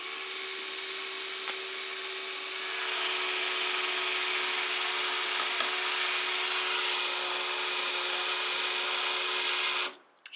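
A Porter-Cable hammer drill turning a line spool to open an automated Raspberry Pi chicken coop door, a steady mechanical whir with a constant motor hum that runs unbroken for about ten seconds before stopping abruptly.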